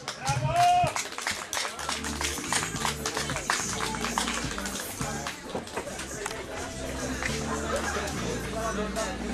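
At an outdoor family picnic in Wojnowice, a crowd claps for the young players after their matches. The applause is lively and fairly faint, mixed with chatter and some laughter.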